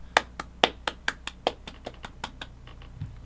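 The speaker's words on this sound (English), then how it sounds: "Clap it up. Clap it up for that bitch." A single pair of hands claps about a dozen times, sharp and close, in a brisk, slightly uneven rhythm that slows and softens toward the end.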